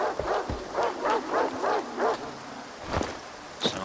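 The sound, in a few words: blind dogs barking in the video game S.T.A.L.K.E.R. 2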